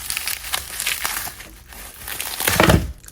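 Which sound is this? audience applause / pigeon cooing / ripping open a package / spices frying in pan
ripping open a package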